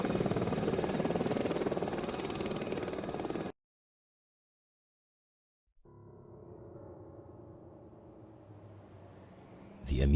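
A helicopter in the Chernobyl VR game lands near the Pripyat amusement park, a buzzing rotor drone that cuts to silence, then returns as a quieter low hum and ends in a sudden louder burst.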